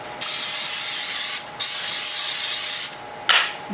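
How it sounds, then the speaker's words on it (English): Cooking spray hissing into a small casserole dish in three bursts, the first two long and steady, the last short and sharp, close and loud with brief gaps between them. "Spray your little casserole dish."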